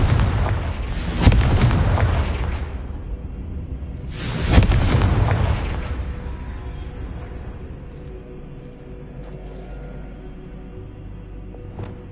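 Confringo fire spell explosions in the video game Hogwarts Legacy: two loud, booming blasts a few seconds apart, each with a rolling rumble that slowly fades into low ambient hum.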